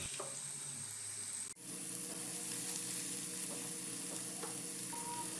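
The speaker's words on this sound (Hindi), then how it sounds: "अब उनको फ्राई कर लेंगे इसी बर्तन के अंदर।" Pieces of bitter gourd (karela) fry in a cooking pan, giving a steady, close, continuous sizzle with no talking over it.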